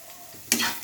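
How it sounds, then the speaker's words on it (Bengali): Carrots and capsicum frying in a pan, a brief quiet moment that gives way to a sudden burst of sizzling and stirring about halfway through, close by. "দেখো গাজর ক্যাপসিকামগুলো ভাজা ভাজা হয়ে গেছে"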